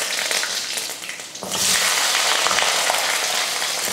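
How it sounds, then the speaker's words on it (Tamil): Mustard seeds and urad dal splutter in hot oil, a sharp crackling sizzle that bursts in suddenly after a quieter moment and keeps popping loudly and continuously up close. "எண்ணெய் காஞ்சதுமே கடுகு உளுந்து, கடுகு பொரிஞ்சதுமே கொஞ்சம் கருவேப்பிலை"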